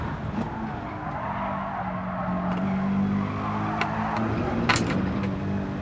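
Race car in an online racing game practice for the Nürburgring 24 Hours, engine droning steadily while tires skid and squeal through a near spin, close and continuous, with no talking.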